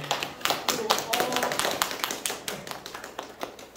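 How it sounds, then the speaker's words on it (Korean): A small audience at a gallery members' exhibition closing party claps after an artist presents a stained-glass work. The claps are distinct and scattered, close by and fairly light, with people talking in between. "박수 한번 주시고요"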